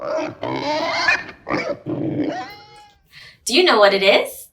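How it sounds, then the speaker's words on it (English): A recorded pig gives a single short, loud, high squeal that follows a spoken question from an adult voice. "It's a pig."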